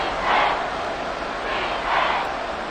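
A large stadium crowd in Madden NFL 24, Washington Commanders against Houston Texans, roars in a steady loud wash, swelling in two broad surges over the sustained noise.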